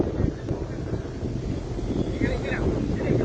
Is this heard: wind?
yes